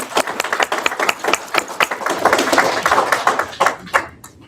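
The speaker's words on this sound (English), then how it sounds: "a round of applause." Audience applause at a community program gathering, fairly close and lively, with irregular individual claps and taps building into a steady wash before fading, ending in a few scattered claps.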